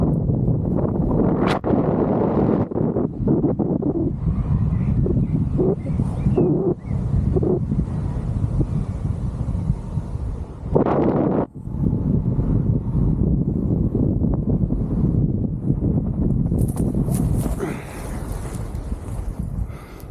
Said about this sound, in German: es ist entweder zu viel oder null Wind hier.